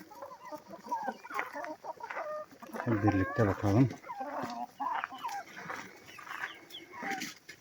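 Chickens cluck and squawk inside a coop, a busy overlapping flock heard close by with a louder burst of calls in the middle, while someone talks over them.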